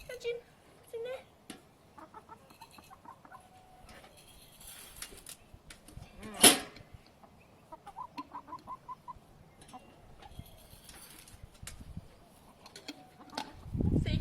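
Backyard chooks cluck and peck around a pedal-operated feeder with a lid, soft scattered clucks at close range, a sharp metallic clank midway, and quiet talk now and then.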